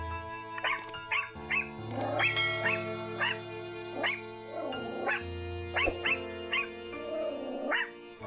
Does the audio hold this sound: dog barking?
yes